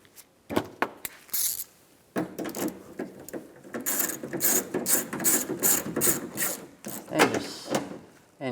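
Nuts being tightened by hand tool on a 2015-2019 Lincoln MKC tail light: rapid ratcheting clicks in repeated close bursts, with brief scraping and handling noises between them.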